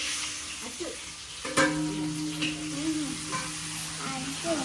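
Steady hot-oil sizzling of onions frying in a pan for egg rice, with occasional stirring scrapes and a faint voice in the background.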